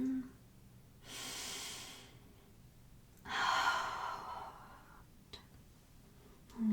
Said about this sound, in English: So let's breathe in.